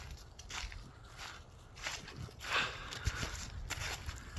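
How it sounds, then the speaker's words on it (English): Footsteps crunching through woodland ground on North Manitou Island, close and fairly loud, in an uneven walking rhythm with a few sharper snaps, no talking. "You hear my footsteps? Yeah, everybody on the video can hear them too."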